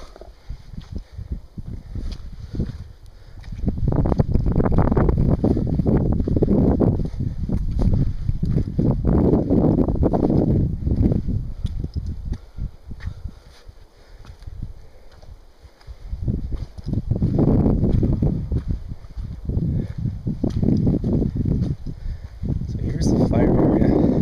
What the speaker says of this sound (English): Windy here.